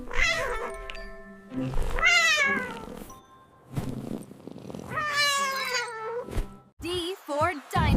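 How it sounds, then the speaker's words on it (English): A cat meows in several long, drawn-out, wavering calls separated by short pauses, loud and close, with shorter chirpy meows at the end. "C for cat."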